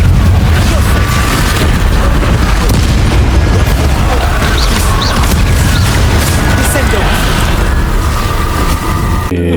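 A dense, sustained roar of crackling explosions from the Confringo fire spell in Hogwarts Legacy, loud and unbroken throughout, layered with rumbling booms and game effects, with muffled voices mixed underneath.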